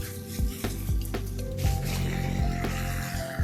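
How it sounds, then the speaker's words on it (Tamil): Irrigation water gushes from an opened pipe at the base of a coconut tree, a steady splashing flow broken by soft squelching plops and drips, close and moderately quiet. "தண்ணியை வந்து திறந்து விட்டுருவோம்."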